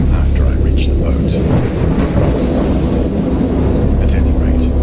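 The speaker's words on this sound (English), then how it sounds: "I know that I heard pearls of thunder and other tones which nature utters only in her wildest moods" A thunderstorm in the Lovecraftian horror video game Dagon, with loud continuous deep rumbling and rain noise that stays heavy and close throughout, broken by a few brief sharper cracks.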